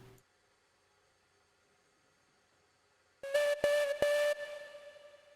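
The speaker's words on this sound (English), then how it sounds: "I just like blowing the whistle." A steam locomotive whistle in the railroad game Railroads Online sounds in three loud, steady blasts separated by short gaps, each with a hissy onset. They follow a long stretch of near silence and end in a fading tail.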